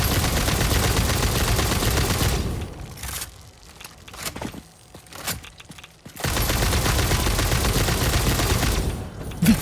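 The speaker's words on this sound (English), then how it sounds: "The homing bullets are so cool." Homing bullets firing in the video game Satisfactory as dense, sustained bursts of rapid gunfire, with a brief lull of scattered softer shots before the barrage resumes, loud and close.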